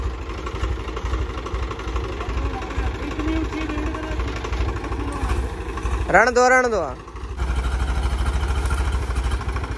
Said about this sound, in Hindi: तो यहाँ से की जा रही है कोशिश ट्रैक्टर उतारने की।